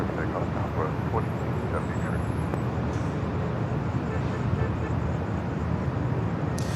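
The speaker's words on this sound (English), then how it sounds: "Southwest Airlines flight 2873. It's a 737 at max 8." Southwest Airlines Boeing 737 MAX 8 at Los Angeles International Airport, a broad, steady jet engine roar holding at even loudness throughout, heard from a distance with airport background noise.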